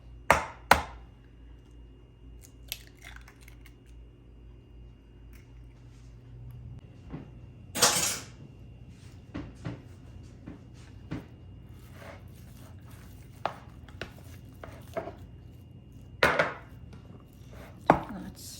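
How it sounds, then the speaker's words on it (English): An egg beaten into mashed potato dough for kopytka dumplings makes soft, irregular thuds and wet squishes with a few sharp utensil knocks against a bowl, close by, in quiet surroundings. "let's beat the egg in"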